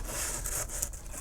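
Hand sanding on a Boba Fett jet pack build, working in a tight spot: a quiet, continuous dry scratching and rubbing with slight uneven strokes, heard close and alone.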